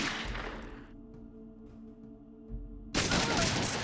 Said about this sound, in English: we gotta kill some people here. Because they're shooting at us